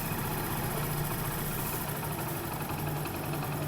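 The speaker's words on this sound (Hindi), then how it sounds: "जैसे ही हमने मिक्सचर को टाइट किया, इंजन के आरपीएम स्लो हो चुके हैं खुद ब खुद" A Honda Pridor motorcycle engine idles after its carburettor mixture has been tightened, giving a steady, fairly loud, even rumble that runs unbroken from start to finish, with no talking.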